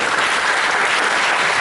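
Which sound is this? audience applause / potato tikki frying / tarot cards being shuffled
audience applause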